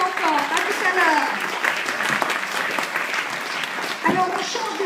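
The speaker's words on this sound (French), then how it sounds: "on l'applaudit encore" An audience at an entrepreneurs' speaker event applauds, a dense, steady wash of clapping heard close, with a host's voice speaking over it throughout.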